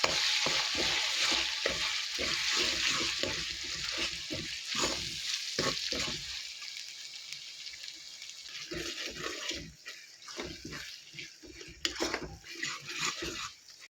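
Ginger garlic paste fries in hot oil for chicken pickle, a loud continuous sizzle broken by repeated spoon scrapes and stirring knocks, quieter spells midway before the stirring picks up again.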